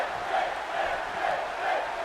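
A dense arena crowd in WWE 2K17 keeps up a steady chant-like roar, swelling and easing in a slow rhythm, with no clear individual voices.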